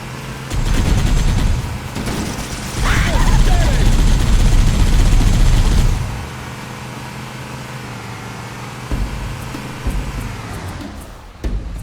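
Gunfire in the video game Halo: Combat Evolved Anniversary, loud dense bursts of shots mixed with engine and vehicle noise for the first six seconds, then a quieter stretch with a few scattered effects.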